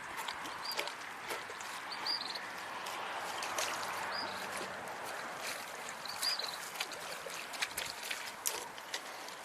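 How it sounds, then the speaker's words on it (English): A boat passes at a distance, its low steady hum drifting under rippling water and faint outdoor sounds, with no talking. "Did I hear another boat? You did."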